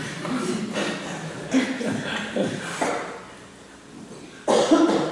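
Coughing rises from a church congregation during a Korean sermon on Joshua. Scattered throat-clearing sounds and soft shuffling sit under a low murmur, then a sharper, louder cough bursts out near the end.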